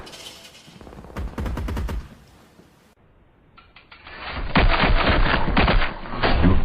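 Rapid bursts of video game gunfire crackle in two stretches, an automatic volley early on, then a denser, louder sustained barrage after a brief quiet gap.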